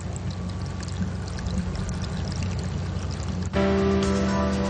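Spring water flowing at the source of the Ashida River in the Hiroshima Bingo region, a continuous close rushing and pouring that grows louder and more tonal partway through.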